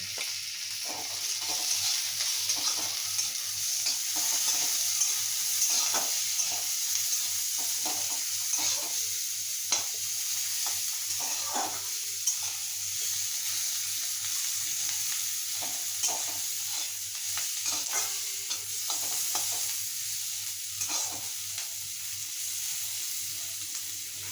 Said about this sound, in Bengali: এর মধ্যে আমি অল্প একটু নুন দিয়ে দিলাম, তাহলে তাড়াতাড়ি পেঁয়াজটা ভাজা হয়ে যাবে।